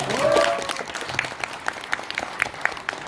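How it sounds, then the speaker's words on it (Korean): Clapping from an audience at a year-end concert for a welfare workers' association, a dense burst of many hands that thins into scattered claps, with a speaker's voice briefly over it. "박수 한번 쳐볼까요?"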